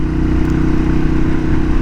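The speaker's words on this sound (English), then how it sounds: "All you hear is the engine." A motorcycle engine drones steadily and close, a constant low throbbing hum with no other sounds, during a ride up Guanella Pass in Colorado.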